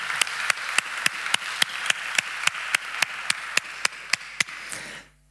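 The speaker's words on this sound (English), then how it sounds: "I think that deserves a big round of applause from us." A conference audience claps together in steady, evenly spaced beats, roughly four per second, a loud and even rhythmic applause that stops abruptly near the end.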